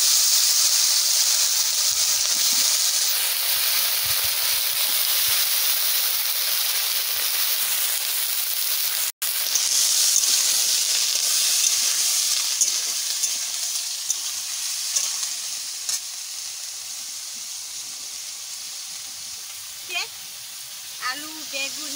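Vegetables sizzle in hot oil for a cauliflower and tilapia curry, giving a steady bright frying hiss with one brief dropout and a few small clicks and pops later on.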